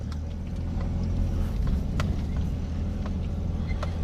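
A 1987 Nissan Pathfinder with a VG30i engine and a Weber carburetor conversion drives around a yard, its low engine rumble steady and close with light rattles on top, and no one talks.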